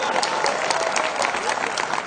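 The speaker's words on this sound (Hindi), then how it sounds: "तालियां बहुत कमजोर हैं व्यंग के लिए।" An audience at a Hindi comedy poetry gathering breaks into steady applause, dense and close, with many hands clapping continuously and a few sharper individual claps standing out.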